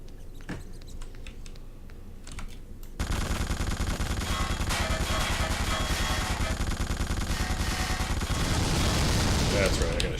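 Gunfire in The Suffering video game: after a quieter opening, dense continuous bursts of shots keep going to the end, with voices talking over them.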